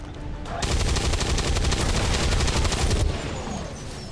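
Rapid rifle fire in XCOM 2 erupts after a brief lead-in, a dense loud burst of shots lasting about two and a half seconds before dropping to quieter game ambience, with no talking.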